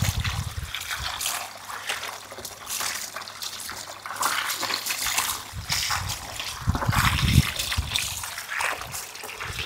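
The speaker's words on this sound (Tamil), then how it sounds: "இப்போ நண்டை அலசிட்டு வந்தாச்சு" Small crabs are swished and rinsed by hand in water for a village-style crab gravy, giving irregular splashes and trickles that come near and loud in bursts, with some voices in the background.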